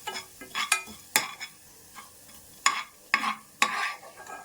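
Dry coriander seeds rattling and scraping in a pan, stirred in sharp, irregular strokes over a light background sizzle.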